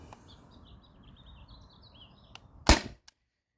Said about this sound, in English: Switched out to the second mag and start firing.